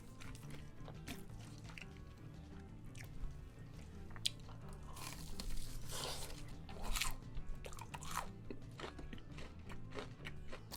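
Crunchy snacks such as Takis and Cheetos dipped in sauce and eaten close up, with repeated crisp bites and wet chewing throughout, steady and fairly quiet.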